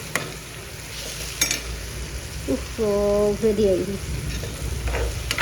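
Food with Maggi masala sizzles and crackles in a frying pan on a home stove, a steady close fry under brief talk, with a clink of stirring partway through.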